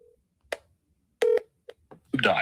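Keypad tones as a telephone number is dialed on a speakerphone, a few short separate beeps followed by a rising call signal, with brief speech mixed in.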